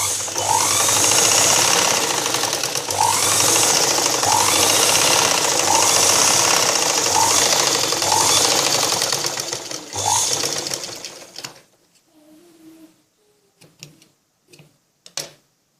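A sewing machine runs steadily and close up, stitching along the side of a blouse's belt piece. It stops after about eleven seconds, leaving a few scattered handling clicks.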